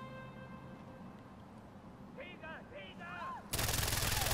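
A gunshot fired at an animal lured with bait in the video game Far Cry 4, sounding as a sudden loud broadband blast near the end, after a stretch of game ambience and bird-like chirps.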